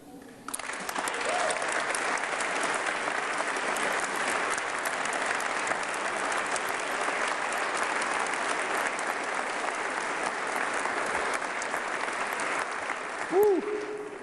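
Sustained audience applause at a state address fills the hall steadily for about fourteen seconds, dense and even, with a brief cheer or voice surfacing near the end.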